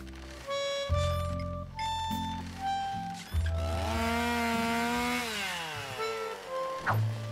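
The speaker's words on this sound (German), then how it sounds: "Der hochprozentige Alkohol war ein famoser Treibstoffersatz für die benzingetriebene Kettensäge." Petrol-powered chainsaw in the adventure game Edna & Harvey, a loud, steady buzzing drone that rises and falls in pitch as it revs, running continuously with no voices.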